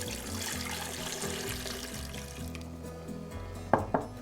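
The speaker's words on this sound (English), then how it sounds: "I'm going to put those in there, along with about a cup of water" About a cup of water is poured into a blender holding toasted chilies, a steady running splash that fades toward the end before a couple of brief knocks.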